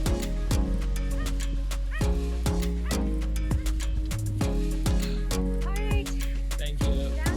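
Dogs in the Chocolate Hills area of the Philippines bark and yip in a rapid, busy series of sharp calls close by, with a steady low hum underneath throughout.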